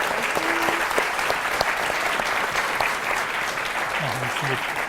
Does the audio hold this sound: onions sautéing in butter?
no